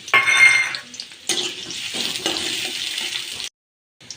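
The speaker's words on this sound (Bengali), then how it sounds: "এখন তেল দিয়ে দেব পরিমাণ মতো পেঁয়াজ কাঁচামরিচ দিয়ে দিলাম" Onions and green chilies hit hot oil for a bottle gourd stir-fry, giving a bright crackling sizzle with scraping stirs of a utensil against the pan, dropping to silence near the end.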